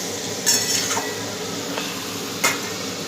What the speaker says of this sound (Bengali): জল দিয়ে ভালো করে নাড়াচাড়া করে ঢাকনা দিয়ে দেবো